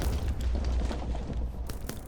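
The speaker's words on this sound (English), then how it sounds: "I think the pig might have just died in that explosion." An explosion goes off in the Minecraft video game, a low rumbling boom with scattered crackling bursts that sustains for a couple of seconds at moderate, somewhat muffled loudness.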